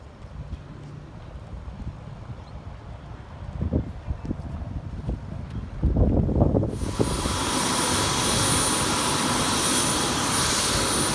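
A tourist helicopter over the Cairns waterfront, a distant engine drone building into a loud, steady roar that holds to the end.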